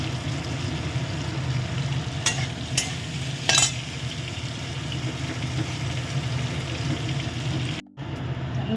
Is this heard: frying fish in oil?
yes